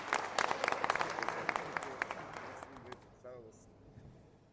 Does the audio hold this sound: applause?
yes